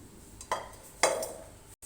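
A lid clanks onto a pot of Murgh Musallam cooking over medium heat, two close metallic knocks about half a second apart, followed by a soft ring and quiet background.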